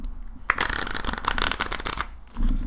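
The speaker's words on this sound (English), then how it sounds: "I'll do a shuffle test real quick." Hoyle waterproof plastic playing cards being riffle-shuffled up close, a dense flurry of rapid flicking clicks lasting about a second and a half, ending in a soft bridge settle.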